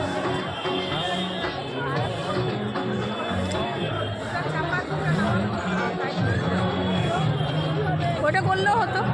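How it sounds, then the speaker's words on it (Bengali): Dense crowd chatter fills the grounds of Shri Shyam temple, a steady loud babble of many overlapping voices with occasional clatter, running continuously throughout. "কত ভিড় দেখুন, শ্রীশ্যাম মন্দিরে প্রচুর ভিড়।"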